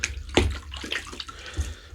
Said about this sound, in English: I'm going to rinse my hand off.